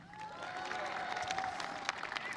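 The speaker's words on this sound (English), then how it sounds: "our applause is going to get progressively lower because we don't actually care" An audience at a White House event applauding, steady clapping from a crowd that holds for a couple of seconds at moderate, somewhat distant level.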